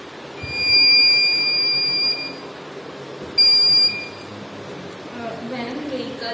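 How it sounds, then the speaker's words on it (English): A speed breaker alert system's buzzer sounds in two steady high-pitched tones, a longer one followed by a shorter one, over quiet room noise. "LED will glow and buzzer will be buzzed, which will sense that there is a speed breaker"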